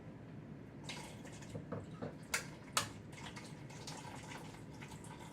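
Liquid from a can of food, 14.5 ounces with no salt added, drains off in the kitchen for a pressure cooker chicken tortilla soup, a steady close trickle and splash with a couple of sharper clinks.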